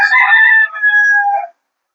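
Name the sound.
rooster crowing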